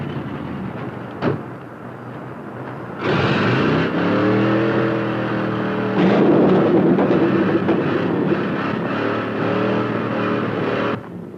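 In a hot rod movie, an unfamiliar car speeds by: a faint rumble, then a loud roaring rush that swells and holds for several seconds before cutting off abruptly.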